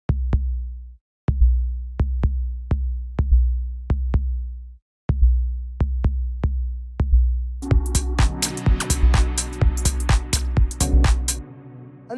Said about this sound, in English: After that, we have the bass line